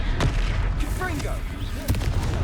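The Confringo fire-blast spell from Hogwarts Legacy goes off in a sharp burst, with a couple of punchy impacts and rumbling booms mixed with shouted combat voices.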